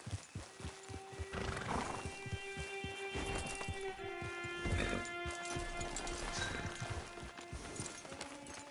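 Steady clip-clop of horse hooves on hard ground with a whinny partway through, set against a soft, game-like ambient background, from the video game Red Dead Redemption 2.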